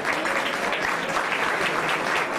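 Applause from an audience for a student at an award ceremony during a dinner at Villa Loredan Franchin in Ceggia, steady and dense clapping filling the room without pause.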